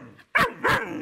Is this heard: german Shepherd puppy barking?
yes